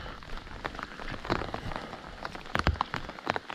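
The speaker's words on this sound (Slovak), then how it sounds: "Rozpršalo sa už prší dosť teraz" Rain falls in a forest during logging work, a close, steady patter of drops striking nearby surfaces with scattered sharper hits and no voices.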